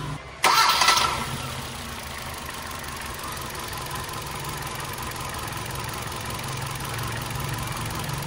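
A misfiring Hyundai Accent 1.4 engine cranks briefly and catches, then settles into a steady, rough idle that carries on to the end, close and fairly loud with no talking.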